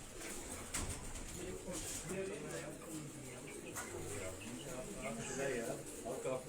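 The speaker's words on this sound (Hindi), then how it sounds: "ये अमेरिकन एक अमेरिकन पिजन है, पिजन है, वाइल्ड पिजन है अमेरिकन।" An American wild pigeon coos in low, repeated soft calls, kept as a gift among a fancier's pigeons, while someone talks throughout over faint background noise.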